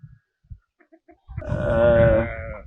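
Sheep on a livestock farm give a single loud, drawn-out bleat close by, preceded by a few faint brief grunts and shuffles.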